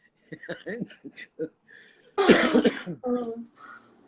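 A burst of harsh coughing erupts in the middle, after stretches of speech, followed by more talking.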